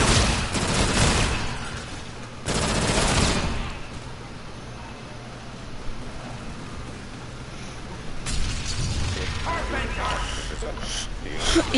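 Rapid bursts of automatic gunfire from the fastest gun in a video game, loud volleys at the start, around three seconds and again later, with people talking in between.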